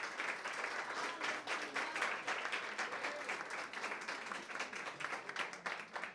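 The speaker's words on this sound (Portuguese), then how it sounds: "Aplaude a Jesus aí." A congregation at a family church service claps and applauds for Jesus, a dense, sustained wash of many hands heard at moderate distance, steady for several seconds with faint voices mixed in.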